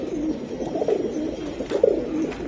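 Pigeons coo nearby in a few soft, throaty rolling calls that repeat at an irregular pace, with no voices.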